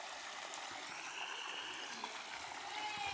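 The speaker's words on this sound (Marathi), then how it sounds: "गव्हाला पाणी चालू आहे." Irrigation water running steadily into a wheat field on a farm, a continuous close trickling and rushing flow with an even, unbroken texture throughout.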